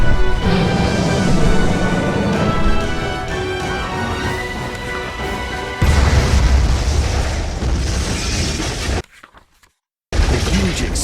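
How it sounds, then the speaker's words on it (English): A huge explosion from an impact inside an attic, heard as a sudden loud booming burst over a dense roaring rumble that cuts abruptly to near-silence before the noise resumes. "The huge explosion from the impact drowned out everything else in the attic."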